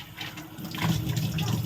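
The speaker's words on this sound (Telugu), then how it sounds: "మోటార్ అయితే వేసాను. వాటర్ ఎలాగా రన్ అవుతుంది కదా అనేసి వాటర్ అయితే పడుతున్నాను అనమాట." Water from a motor pump runs steadily into a container at home, a continuous close splashing and gurgling rush that holds throughout without pause.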